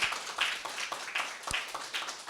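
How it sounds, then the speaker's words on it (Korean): Applause from a church audience for a preacher after a lecture on ministry planning, moderately close claps with a few sharper, distinct hand strikes within a thin, uneven patter. "또 수고해 주신 우리 장건 전도사님께 다시 한번 박수 한번 드리겠습니다."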